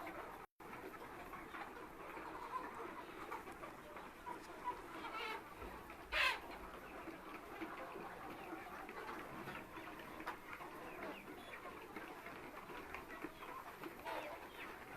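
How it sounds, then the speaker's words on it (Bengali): Sonali hybrid breed chickens kept in upstairs rooms of a farm cluck and murmur steadily as a dense, continuous flock chorus with no voices over it. "এগুলো সোনালী হাইব্রিড জাতের মুরগি।"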